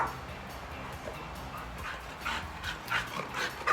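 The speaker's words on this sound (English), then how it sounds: "Ah, my dog's crazy." A pet dog indoors whimpers and yips in short, excited, jealous bursts, several high whines rising toward the end, fairly close but not loud.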